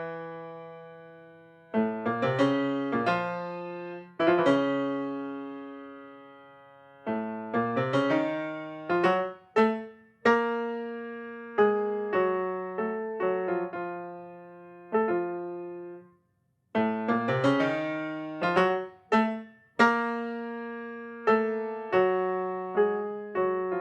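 Piano playing the Samuel Goldenberg movement from Mussorgsky's Pictures at an Exhibition, heavy declamatory phrases with ornamented turns, separated by short pauses, heard alone without talk.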